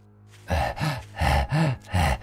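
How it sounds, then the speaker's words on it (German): A dog in the video game 7 Days to Die snorts and huffs in five quick, loud bursts close by, with no talk over them. "Der Hund schnauft ja auf der Weide."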